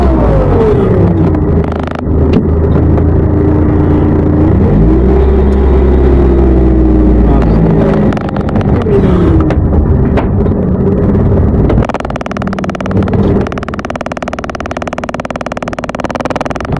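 A car drives at night and arrives home, its engine rumbling steadily with rising and falling revs and gear changes, then settling to a quieter idle near the end.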